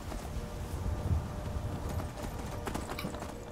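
Steady clip-clop of horse hooves trotting along at an even pace in Skyrim, close and continuous, with faint background ambience.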